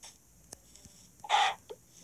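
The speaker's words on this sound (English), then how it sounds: "Ooh, another chicken." A chicken in the Minecraft video game lets out one short, fairly loud cluck near the middle, with a few faint clicks around it and no talking.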